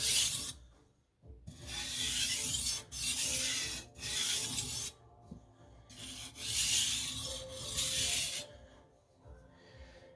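A knife is sharpened in repeated long rasping strokes, roughly seven scraping passes with short pauses between, close and clear with no talking.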